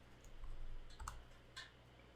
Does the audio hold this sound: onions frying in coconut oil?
no